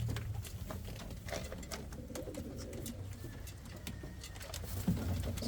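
Indian fantail pigeons coo softly in a breeding loft, low murmuring calls under light patter and background noise, faint and close.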